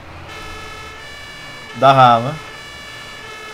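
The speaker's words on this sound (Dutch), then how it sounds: "De sirene gaat erop, denk ik." A brief fire truck siren wail in an emergency-services firefighting video game sounds once, loud and close, rising and falling for about half a second, with someone speaking Dutch just before it.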